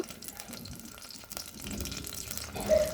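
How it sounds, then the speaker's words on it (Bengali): Water splashes and runs into a pan of frying fish and cauliflower in a steady pour, with a brief louder gush near the end; soft kitchen noise underneath. "এখন অল্প একটু পানি দিব"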